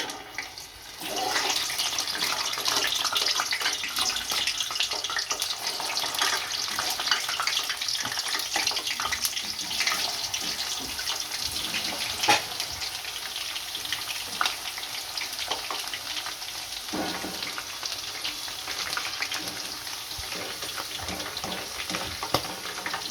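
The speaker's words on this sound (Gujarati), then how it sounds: "આપણું તેલ ગરમ થઈ ગયું છે આ ભીંડો આમાં તળી નાખશું" Okra deep frying in hot oil for a restaurant-style bhindi masala, a steady, close, hissing bubbling sizzle that runs continuously with occasional small pops and crackles.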